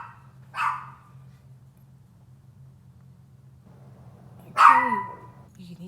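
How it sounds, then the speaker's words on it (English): A dog named Bambi barks twice, several seconds apart, each a sharp single bark at a moderate distance over a low steady hum, with faint talk in the background. "you can hear Bambi barking"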